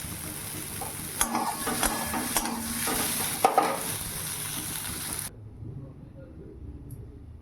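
Cauliflower, steamed first, frying in leftover oil in a kadai, with a steady close sizzle and occasional stirring clinks for about five seconds before it drops to a quieter background hum.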